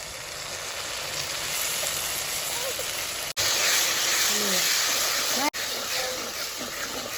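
Tomatoes for a homemade Manchurian fry in a hot pan, giving a steady close hiss and sizzle with faint crackles, broken by two brief cuts. A voice talks over it now and then.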